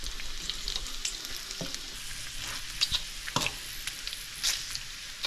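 Bacon fries in a home kitchen pan with a steady close sizzle, dotted with small pops and spatters and a few stirring taps, and no talking.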